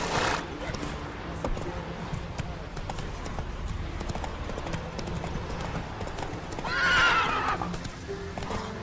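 Roach the horse from The Witcher 3 trots along with steady clip-clop hooves and a loud neigh partway through, while a voice talks over the scene.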